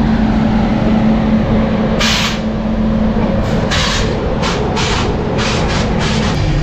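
Howrah Jodhpur Superfast Express pulling out of Deen Dayal Upadhyaya Junction, a loud, steady rumble and rattle of wheels on track with hissing bursts of air brakes over it.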